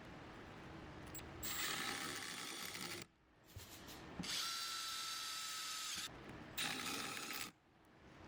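Power tool driving 3/4 inch screws into trim on a Humvee, a few close whirring bursts of one to two seconds with brief quiet gaps between them, fairly faint overall with no talk.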